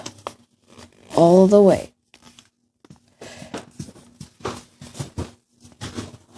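Paper is folded and creased into an origami boat, giving short crinkling and rustling bursts close by, with a voice speaking briefly between the paper sounds.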